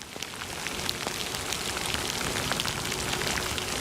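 Steady rain falling on a road, a dense, even hiss of drops close by that lasts through the whole stretch, with no voices.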